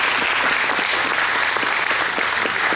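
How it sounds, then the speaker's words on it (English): Loud, dense applause from a crowd at a National Guard history talk, a steady wash of many hands clapping together without a break, close and full throughout. "give him a round of applause for him"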